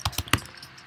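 A computer keyboard with a fault that doubles some letters is typed on up close, producing four sharp clacky keystrokes in an uneven rhythm across a second with quiet gaps between them.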